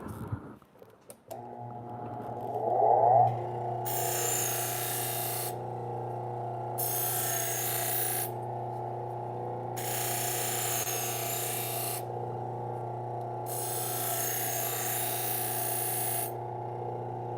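A chef's knife sharpened on a 600 grit wheel: a steady motor hum runs throughout while the blade grinds against the wheel in four or five rhythmic, raspy passes, close and fairly loud.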